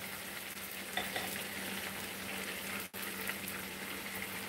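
Hot water cornbread frying in butter in a crowded skillet, a loud, steady sizzle and crackle throughout with a brief break near the end, no voices.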